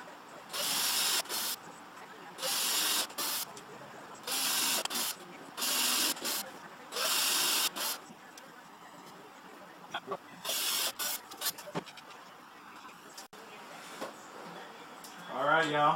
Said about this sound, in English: drill some new pilot holes